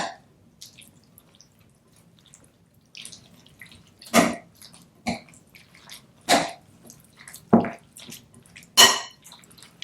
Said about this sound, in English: we're going to mix all of this together